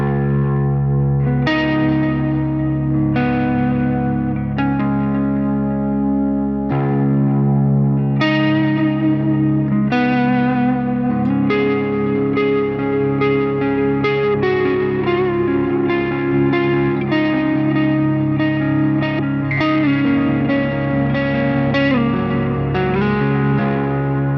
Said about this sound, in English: quite a nice little delay sound with just a little bit of gain